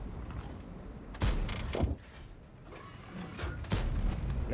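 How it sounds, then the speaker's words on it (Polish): Cannon fire from a Char Murat tank in the World of Tanks video game: several sharp, loud booming shots spaced a second or two apart over a low mechanical rumble, with no talking. "Teraz to już był taki też bardzo optymistyczny strzał"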